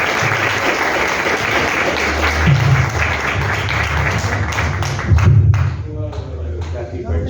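A church congregation at a Pentecost festival and ministry anniversary breaks into sustained, loud applause, with voices mixed into the clapping as it gradually thins out.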